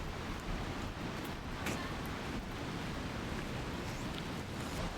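Water of a small river runs steadily past at a waterfall spot in Canada, a full, unbroken rushing wash with some wind buffeting the microphone, and no talk over it.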